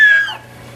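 A bird at Parrot Jungle gives a single short, loud call close by that quickly fades into quiet background hum.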